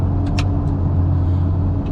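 Logging skidder engine running steadily during skidding, a loud continuous low rumble with a constant drone and a few faint high squeaks or hisses over it.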